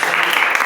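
A church congregation claps together in a burst of dense, steady applause that fills the short moment at an even level, with no voices over it.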